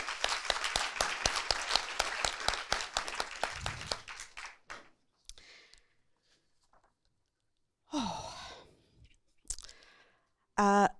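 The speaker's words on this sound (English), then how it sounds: "give them a big round of applause and thank them" Conference audience applause: dense clapping for about four seconds, then tapering off into scattered claps and near silence, with a brief voice heard afterward.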